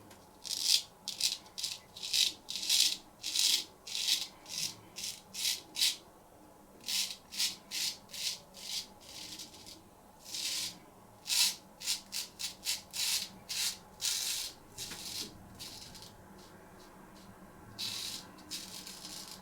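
A vintage C.V. Heljestrand MK.32 straight razor scraping across stubble in a wet shave, a loud rhythmic series of short rasping strokes in quick bursts, close up and alone.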